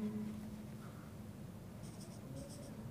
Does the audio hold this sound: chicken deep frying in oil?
no